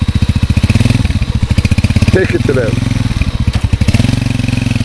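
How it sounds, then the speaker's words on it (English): A motorcycle ridden close by, its engine chugging in a fast, even pulsing rhythm with slight revving swells, loud throughout while someone briefly talks over it. "we're going to demonstrate to you now Wannie riding his motorcycle"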